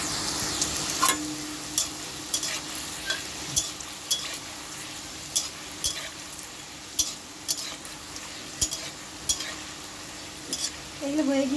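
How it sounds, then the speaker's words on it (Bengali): Nimki frying in hot oil over low gas, a steady continuous sizzle with repeated soft scraping and stirring clicks from a utensil in the pan, close and moderately loud, no talking. "গ্যাসটা কিন্তু আস্তে করে দিয়ে ভাজতে হবে, তার কারণ নিমকিগুলো যাতে পুড়ে না যায়।"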